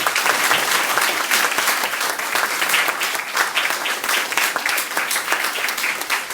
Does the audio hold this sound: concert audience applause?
yes